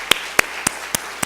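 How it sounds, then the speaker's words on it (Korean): A church congregation at a Wednesday evening service applauds with five sharp, evenly spaced claps, crisp and fairly close, over a quiet room. "다시 한번 박수 부탁드립니다"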